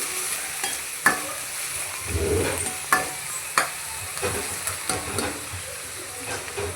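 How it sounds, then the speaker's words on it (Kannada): Finely chopped onions frying in hot oil for a quick egg rice, a steady close sizzle broken by repeated scraping stirs of a spoon against the pan. "ಹಾಕ್ಕೊಂಡು ಒಂದು ಸಲ ಕೈ ಆಡಿಸಿ ಚೆನ್ನಾಗಿ ಫ್ರೈ ಆಗಲಿ ಈರುಳ್ಳಿ"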